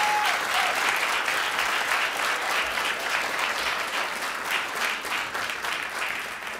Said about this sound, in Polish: Raz jeszcze wielkie brawa.